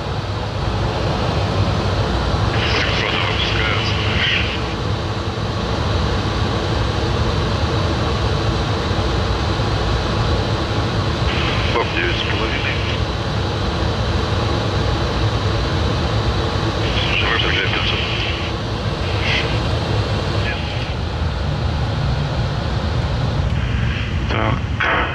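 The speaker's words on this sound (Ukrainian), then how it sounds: "Закрилки 15 опускаються." Inside an Antonov An-124 in flight, a loud, constant broadband roar of engines and airflow fills the cabin while the flaps lower, with brief higher whirring bursts from the flap mechanism recurring over it.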